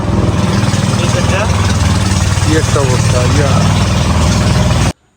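A trawler boat engine runs with a loud, steady low throb on a river trip through a hill forest reserve, nearby voices talking over it, then the sound cuts off abruptly.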